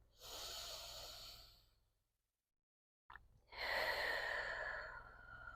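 Slow, deep breathing during a morning yoga flow: one long audible breath, then a silent pause, then a second fuller breath drawn close to the microphone, with no talk.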